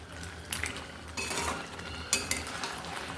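Crab curry stirred in a pan at home, heard as a quiet, low-level simmering hiss with a few soft utensil scrapes and clinks against the pan.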